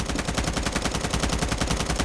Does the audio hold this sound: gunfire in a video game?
yes